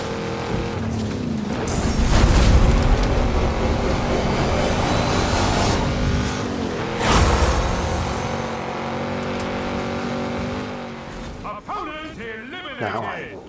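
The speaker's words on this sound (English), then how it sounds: "you can see how it's spinning its wheels off-road" A Camaro in a racing video game spins its wheels off-road, giving a loud, sustained engine roar with surging revs and tire squeal that swells and fades over the whole stretch.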